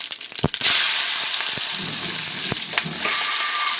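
Mustard seeds, cumin, turmeric and green chillies fry in hot oil in a pan, a loud continuous sizzle with a few popping crackles and spoon scrapes, no talk.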